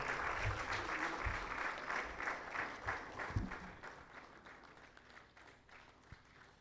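An audience at a birthday lecture gives sustained applause that builds and then thins out, with a crowd of hands clapping at a moderate distance and a few louder claps near the end.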